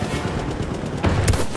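A light machine gun in Battlefield 1 fires a short burst of rapid shots, loud and close, lasting about a second and a half.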